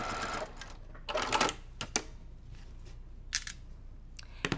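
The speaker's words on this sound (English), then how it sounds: "we're just gonna stitch and then just pull the pins out" A sewing machine stitches a quilt seam in short quiet bursts with gaps between them and a few sharp clicks, close by and with no talking.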